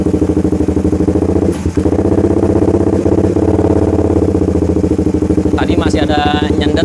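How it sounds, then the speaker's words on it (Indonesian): A motorcycle engine idles loud and close with a misfire, a steady lumpy thrum broken by stumbles, with one clear dropout near two seconds, while someone talks over it. "kita nyalain langsam dulu kayak gini"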